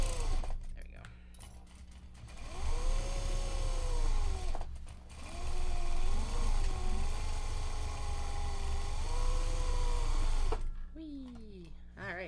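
Sewing machine stitching Japanese fabric for bags, a steady loud motor hum with rapid needle chatter running in long stretches, briefly stopping for a pivot before restarting.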